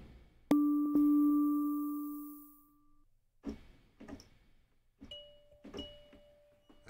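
A bell sample triggered in FL Studio 20.1 rings out with a bright, sustained tone that decays over about two seconds, followed by several shorter, softer bell hits later on, with no talking.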